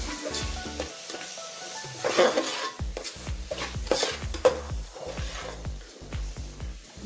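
A utensil scrapes and stirs through a sizzling spice mixture with coriander powder for misal in a pan, with clinks against the metal and a steady frying hiss underneath.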